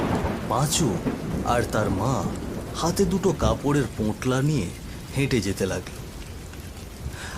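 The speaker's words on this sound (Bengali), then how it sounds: "ঝিরিঝিরি বৃষ্টি পড়ছে।" A steady hiss of drizzling rain with low thunder fills an evening village road scene in a Bengali horror cartoon, continuous beneath a narrator's voice.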